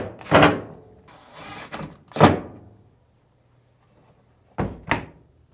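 A Samsung dryer door is set in place and its two screws reinstalled: several hard knocks and clunks with some scraping, then a quiet pause, then two short sharp taps close by.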